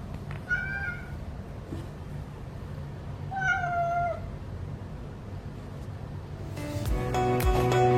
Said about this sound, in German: Das sind die herzigen Katzen.